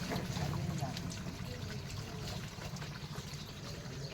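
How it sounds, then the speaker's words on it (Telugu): Water trickles and falls at a buffalo dairy farm in a village, a faint, steady dribbling wash heard from a distance under low background noise. "వాటర్ అయితే పడుతుంది."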